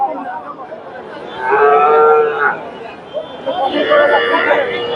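A small Friesian bull calf moos in two drawn-out calls at a busy cattle market in Bogura, with people talking nearby and crowd noise in the background.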